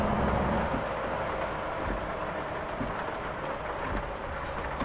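Steady rain falls in American Truck Simulator, a dense even hiss across a truck yard at night, with faint low rumbles underneath and no talking.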